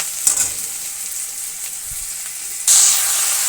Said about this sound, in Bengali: পেঁয়াজ রসুনটা একটু লাল লাল করে ভেজে নিই